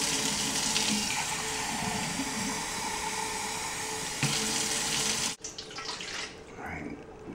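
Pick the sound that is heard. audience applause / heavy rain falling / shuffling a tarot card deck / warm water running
warm water running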